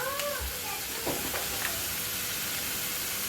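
Vegetables with cabbage being stir-fried in a hot pan, a steady soft sizzle and hiss with a few brief scraping stirs, fairly quiet and close, with no talking.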